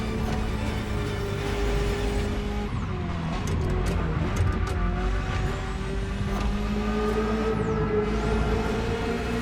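A Ferrari F40 in The Crew Motorfest racing game roars continuously as it drives, engine pitch shifting through gears with brief tire squeals, loud and close throughout.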